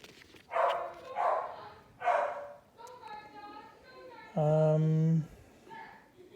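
A pet dog barks indoors, three sharp barks followed by higher whining yips and a longer whimper, close to the microphone, with a person's voice in the room.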